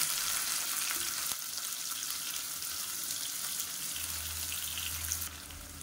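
A close, loud, steady sizzle of sliced onion frying in oil with whole spices in a pan for mushroom biryani, with a brief stir and some clatter partway through and no voices.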